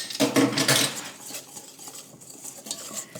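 Almond milk pancake batter for whole wheat vegan pancakes is whisked in a bowl, quick clinking metal strokes against the side, loud and close at first then lighter and more scattered.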